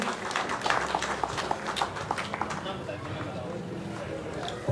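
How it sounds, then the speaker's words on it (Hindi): A crowd at a village welcome gathering applauds in a dense burst of clapping that thins out, with a voice speaking over the noisy outdoor scene. "जोरदार तालियां बजा दें सभी के लिए"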